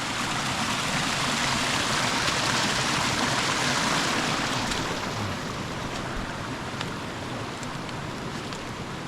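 A usually dry creek bed running with water after heavy rain on a farm, a loud, dense, continuous rush of flowing water that stays constant throughout with no voices.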